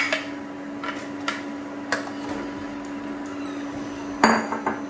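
Meat being stirred in a pot for spiced kosha mangsho dopiaza, heard as a few scattered metallic clinks and scrapes of a spoon against the vessel over a steady low hum.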